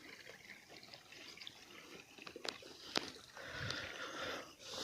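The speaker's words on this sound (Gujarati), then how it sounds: "જો આપણું પાણી જાય છે" Irrigation water runs through a channel in a farm field beside cotton, a faint trickle and gurgle broken by a few brief splashes, quiet and close.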